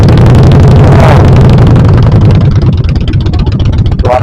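Harley-Davidson motorcycle engine running loud and close on a Sunday morning group ride, a steady deep rumble with a rise in revs and pulsing throb throughout.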